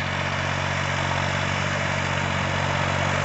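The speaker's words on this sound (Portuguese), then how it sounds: "Olha lá o trator." A 2021 Valtra A 950R tractor engine runs steadily, a loud, continuous close-up drone with low rumble and broadband vibration throughout, no voices.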